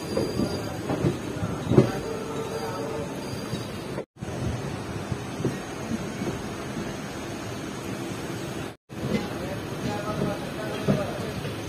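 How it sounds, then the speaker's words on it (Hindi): A train pulls into Jasidih station on the journey to Baba Baidyanath Dham, a rumbling rolling drone with rattling carriage noise and wind-like rush, heard close and continuous with two brief dropouts. "जस्सीडीह अराइवल हो रहा है दोस्तों हमारी ट्रेन का।"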